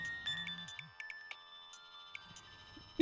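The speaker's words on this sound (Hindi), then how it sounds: "अम्मा अम्मा आपके नंबर पे कॉल आ रही है" A mobile phone rings with an incoming call, a repeating electronic ringtone melody in short bright notes, fairly faint and close, with a low hum of background sound and a brief louder bump at the end.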